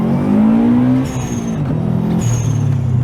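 A 1996 Subaru WRX STi pulls hard through the gears, the engine note climbing, dropping briefly at each shift, then rising again, loud and close throughout.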